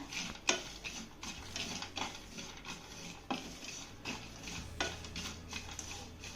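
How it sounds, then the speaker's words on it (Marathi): Roasted peanuts are stirred into roasted coconut in a pan, giving repeated scraping and clinking strokes of a spoon against metal at a steady pace, with a faint sizzle underneath. "आता हे शेंगदाणे खोबऱ्यामध्ये चांगले मिक्स करून घेऊया"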